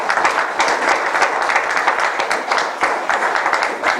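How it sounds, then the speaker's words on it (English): Applause from an audience at a community gathering, a dense, steady patter of many hands clapping, fairly loud and sustained throughout. "Now, give them a round of applause."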